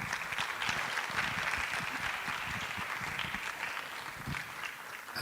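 A lecture audience gives steady applause to welcome a session moderator at an anniversary public lecture, with sustained, even clapping from many hands across the whole stretch and no talk.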